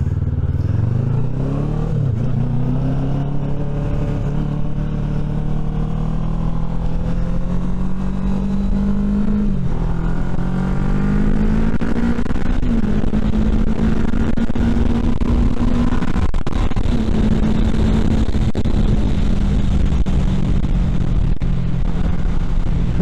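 A motorcycle fitted with a DNA air filter, a Scorpion end can and a one-tooth-smaller front sprocket, ridden hard with loud, close engine revs that climb through the gears, the exhaust note rising and dropping at each shift.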